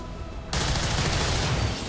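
Gunfire in the video game XCOM 2: War of the Chosen erupts abruptly after a quiet half second into a loud, sustained burst of shots and blasts that fills the rest of the clip.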